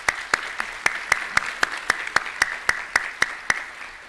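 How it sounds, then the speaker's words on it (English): Audience applause at a school desegregation anniversary event carries a dense crowd clapping along with sharp, regular loud claps from a single person close by. "just give a round of applause for those folks for putting this program together"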